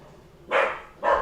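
A dog barks indoors, two short, moderately loud barks separated by a brief pause, with no talking.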